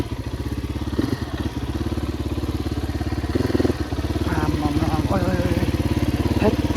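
A motorcycle engine idles close by as the bike is being parked. It gives a steady, throbbing low rumble with a few brief clatters, and faint voices sound in the background.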